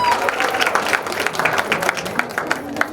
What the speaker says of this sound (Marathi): एकदा मिनलताईच्या सगळ्या मैत्रिणींसाठी का जोरदार टाळ्या झाल्या पाहिजे